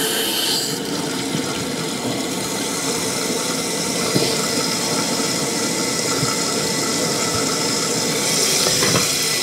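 Water rushing into a toilet tank as it refills after a flush-lever replacement, a steady, loud, continuous hiss and gurgle that stays constant throughout, close up with no talking.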